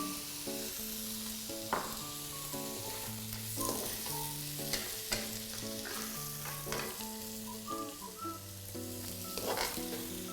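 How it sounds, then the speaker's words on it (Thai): Shiitake mushrooms, bacon and garlic stir-fry in oil with a low, steady sizzle while a spatula stirs and scrapes intermittently; tonal music plays throughout, louder than the cooking. "อคราวนี้ผัดให้มันเข้ากัน รู้สึกว่าแห้งไปเติมน้ำมันลงไปนิดนึง"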